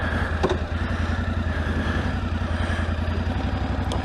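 A Suzuki V-Strom motorcycle engine idles with a steady, loud low rumble throughout, close by, with a faint tick near the start.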